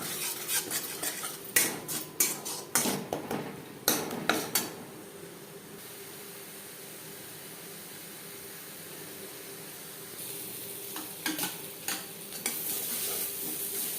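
Tomato paste, cumin and coriander powder fry in a pan for a vegetarian papaya curry. A spoon scrapes and clinks in bursts, then a quiet stretch, and a soft sizzle and more stirring return near the end.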